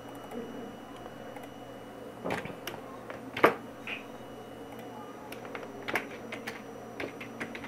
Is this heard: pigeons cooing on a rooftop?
no